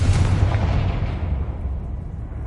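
A Confringo fire-blast spell in Hogwarts Legacy, one loud booming explosive burst up close that rumbles and fades over about two seconds, with no talking.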